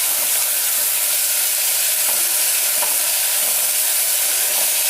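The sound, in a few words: fenugreek leaves, mint and coriander frying in pan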